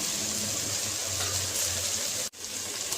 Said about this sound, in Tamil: மிக்சி ஜாரில் வந்து தண்ணி ஊற்றி அலசி சேர்த்திக்கலாம்